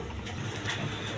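Pigeons in a pair kept for breeding coo softly in a steady low murmur, the calls blending with background noise and no talk over them.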